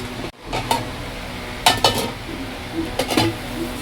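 Paneer is tossed and stirred in a pan, bringing a steady sizzle with sharp scraping and clinking bursts of a utensil against the metal, close by and fairly loud.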